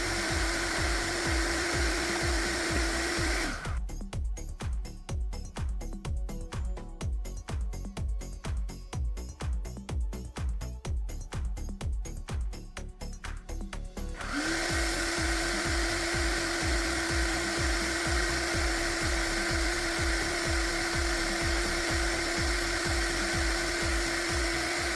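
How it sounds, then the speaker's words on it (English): A loud, steady vacuum cleaner drone runs close by, shifting to a rapid rattling pulse for several seconds as it sucks up lint through a hose attachment, then returns to the steady whine. "I'm going to vacuum it."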